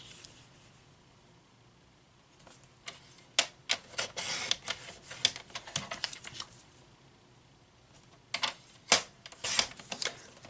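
Card paper being trimmed to size produces sharp crisp clicks and scraping slices, sparse at first, then in bursts, close and fairly faint.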